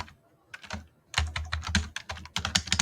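Keys tapped on a computer keyboard to enter a search keyword, a short pause followed by a quick, close run of crisp clicks.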